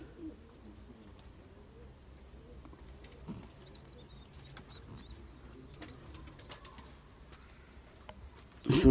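Tumbler pigeons coo softly and steadily in a loft, low murmuring calls repeating throughout with a few faint chirps, and a sudden loud rustle or bump at the very end.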